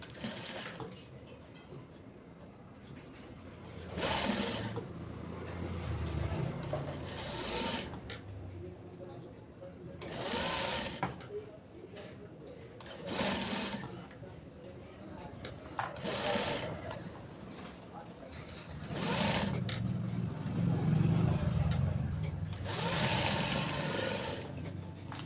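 A sewing machine runs in bursts while top-stitching a sixteen-panel one-piece frock, whirring steadily at close range with brief pauses and handling noises in between.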